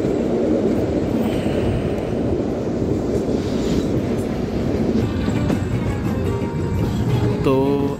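The Kalka–Shimla toy train runs steadily past Solan brewery, a continuous loud rumble of rolling wheels and carriage noise with wind buffeting, ending in a faint squeal.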